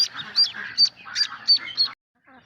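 Farmed ducks kept for breeding quack in a rapid series of about six loud, nasal calls close by, followed by a brief pause and a fainter call at the end.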